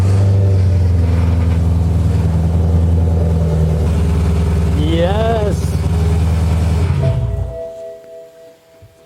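A BMW E90 M3 with the S65 V8 idles steadily after rod bearing repair at home, a close, even engine drone with a brief rising rev before it shuts down and fades, while a voice cheers over it.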